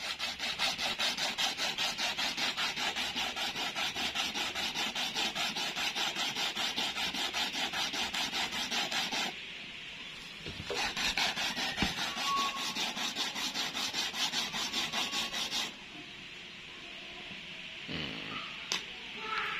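Rhythmic scraping as Parica (Schizolobium amazonicum) seeds are rubbed by hand to scarify them, a steady close rasping stroke that pauses and resumes in two later bursts, with no talking over it.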